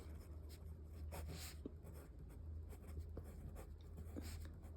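Pen scratching out an answer during a class 7 maths lesson on area, soft intermittent strokes against a faint low hum, no speech.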